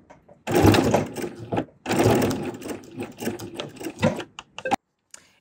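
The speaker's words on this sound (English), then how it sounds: "And then I'm just going to stitch that with my sewing machine." A sewing machine stitches a hanging tab onto a free-standing lace mini stocking, running loud and close in two long bursts, then a series of short stop-start runs before going quiet.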